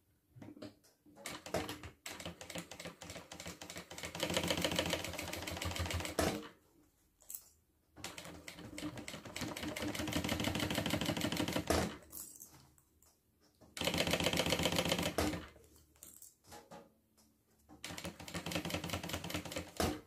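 A sewing machine stitches a handmade bag, running in several bursts of rapid, dense mechanical stitching a few seconds long, separated by short pauses, close and fairly loud with no talking.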